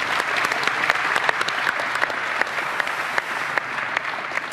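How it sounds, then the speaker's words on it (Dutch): A room full of people applauding at an awards event, loud and sustained clapping throughout with a few sharper individual claps standing out. "Applaus van mijn assistent."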